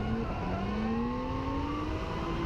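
A drift car at Ozark Raceway holds a loud, steady engine note in second gear on corner entry, with the pitch climbing slowly as the revs build, close and continuous.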